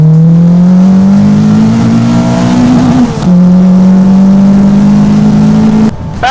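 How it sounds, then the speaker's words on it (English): A 2020 Caterham 360S engine revs hard and holds at the rev limiter, bouncing against it, dips briefly, then screams up to the limiter again; loud and close. "bouncing off the rev limiter, this really is a super fun car to drive"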